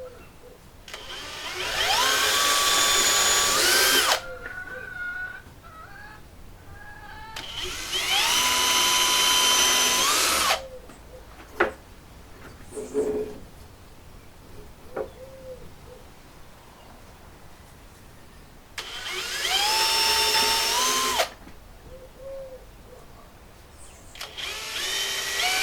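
A power drill bores a pilot hole into wood for a screw joint on a plywood storage rack, three loud sustained whirring bursts of a few seconds each, separated by quieter handling sounds and small knocks.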